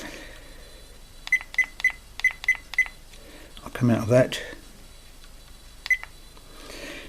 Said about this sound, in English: It's not a very loud beep on this.